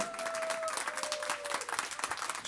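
An audience applauding the conductor at a Lithuanian town celebration concert, steady close clapping from many hands, with a speaking voice over the first half.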